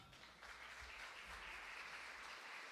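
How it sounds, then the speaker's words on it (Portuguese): Church congregation applauding during a worship service, a dense, steady wash of clapping that swells in after a brief quieter start and holds at a full, even level throughout. "Aplauda o Senhor Jesus"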